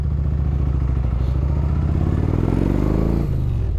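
A 2006 Yamaha Road Star motorcycle on a test ride, its big engine rumbling loud and steady, then revving up with rising pitch before easing off as the gear changes.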